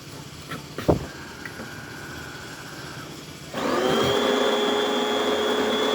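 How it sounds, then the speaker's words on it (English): A DeLonghi Magnifica espresso machine, just serviced and descaled, starts grinding beans for a double shot: a few clicks and a soft hum, then a loud, steady mechanical whir with a whining tone that runs to the end. "This is going to start to grind."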